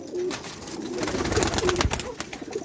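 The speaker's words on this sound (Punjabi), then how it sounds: "ਅੱਛਾ ਇਹ ਨੀਲਦੁਮੀ ਕਬੂਤਰ, ਉਹ ਵੱਡਾ ਕਬੂਤਰ ਇਹ ਬੈਠਾ।" Nildumi pigeons coo in low, soft bursts over a steady rush of background noise, close by and continuing throughout.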